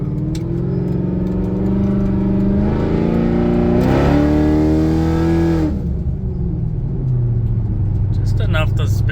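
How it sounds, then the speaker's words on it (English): A 2004–2006 Pontiac GTO muscle car accelerates and briefly spins its tires. The engine rises in pitch as it revs up, then settles, loud and steady throughout the pull. "Just enough to spin the tires a little bit."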